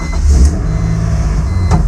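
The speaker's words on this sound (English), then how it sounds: "Now let's start the car." A BMW E46 M3's engine turns over with a brief cranking burst, then settles into a loud, steady low rumble close by, with no voices.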